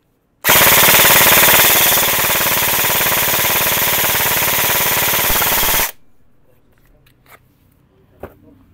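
An E&C airsoft rifle fires a loud, continuous full-auto burst of about five and a half seconds, then cuts off abruptly, leaving faint handling clicks and quiet room noise.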